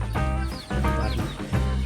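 Rhode Island Red chickens in a backyard farm pen clucking in three short close bursts, each a rising squawky call, loud and clear with no talk.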